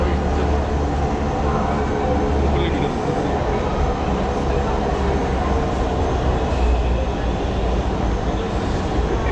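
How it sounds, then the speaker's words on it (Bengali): A metro train that has just pulled into a station platform gives a steady, loud rumble and hum that fills the whole stretch, with a voice faintly underneath. "এই যে গাড়ি ঢুকে গেছে, এটা 8:10 গাড়ি"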